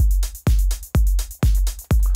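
Simple drum beat with a full-level kick drum and the other drums played at half velocity: five steady booming kick hits with crisp hi-hat and snare on top, loud and close, with no talking.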